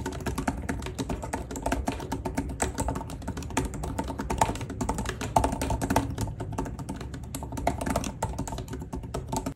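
Rapid, steady typing on a Microsoft Surface Pro 8 detachable keyboard, keys clicking in quick succession close by, with no one speaking.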